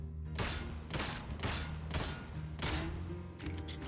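Rapid gunfire from a magazine dump in the video game Warhammer 40K: Darktide, with a burst of repeated loud shots fired quickly one after another.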